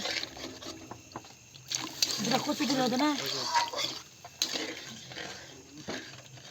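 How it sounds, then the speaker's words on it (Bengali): Water pours into a pot of fish curry seasoned with turmeric and salt, a splashing trickle that runs for a few seconds under talking. "তারপর জল দিয়ে দেবো পরিমাণ মতো"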